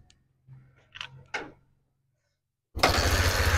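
A motorcycle engine, freshly cleaned of carbon deposits, fires up after a few faint mechanical clicks and then runs loud and steady at close range.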